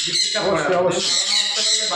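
A pet sun conure parrot screeches in harsh, loud, close squawks that run almost continuously for a couple of seconds.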